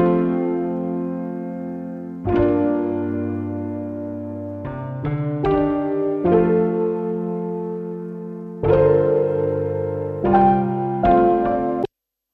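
A vintage-style keyboard loop played from MIDI and pitched up two steps moves through sustained, harmonically rich chords, changing in a slow rhythmic pattern with several quicker stabs, clear and upfront with no talking.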